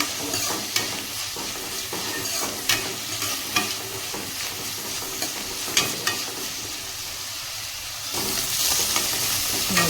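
Chopped fenugreek leaves fry in a pan with a continuous close sizzle and hiss, broken by periodic sharp scrapes of stirring, and the sizzle swells louder near the end.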